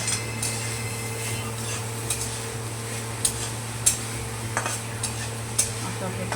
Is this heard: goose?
no